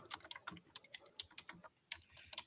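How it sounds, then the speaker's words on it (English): Quick, light keystrokes patter on a computer keyboard in an irregular run of clicks, close and quiet, with no voices over them. "I'm going to type in a welcome message"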